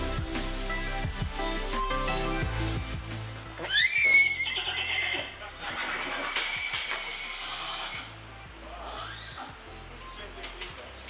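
A horse whinnies loudly at close range on a farm that keeps horses, ponies, dromedaries and raptors, the call rising and falling over steady background music, with fainter calls following.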